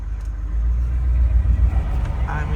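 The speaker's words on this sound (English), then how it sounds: "just crawls forward in first gear, hardly even on the throttle" Diesel Ford Highboy truck crawling forward in first gear through snow with barely any throttle, a low steady engine rumble close by under a faint voice.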